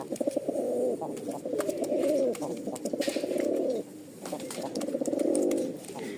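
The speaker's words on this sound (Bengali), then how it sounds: "ডাকটা দেখেন মঞ্জুরানো একটা ডাক কবুতরের" A pair of Rajshahi Giribaz pigeons in a home loft coo close by, making repeated deep rolling coos in long phrases that run with only brief pauses.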